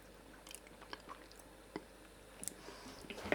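Close, quiet chewing of a bite of mashed cooked egg yolk filling, with soft wet mouth clicks and squishes scattered over a few seconds in an otherwise hushed kitchen.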